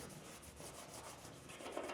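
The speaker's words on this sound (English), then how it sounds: "we're scrubbing it with the scuffing pad to be efficient, to get a sanding action" Steady, continuous rough rubbing as a scuffing pad scrubs a Camaro roof skin to sand the surface, a close, even hiss of abrasion with no pauses.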